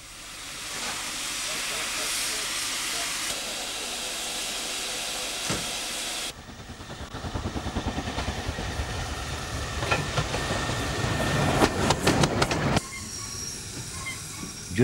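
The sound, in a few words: 1950 Ivatt mogul steam locomotive train running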